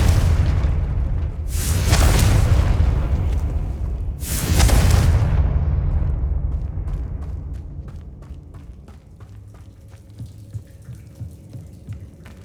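Two deep, booming blasts from the Confringo spell in the video game Hogwarts Legacy land close together, each with a rumbling tail, followed by faint ticking and clicking as the sound dies away.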